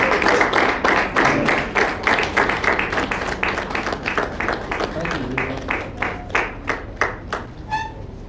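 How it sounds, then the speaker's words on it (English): Applause from an assembly crowd honoring newly qualified professionals, steady dense clapping that thins toward the end, with a brief electronic ping near the close and a murmur of voices underneath. "Let's give them a round of applause."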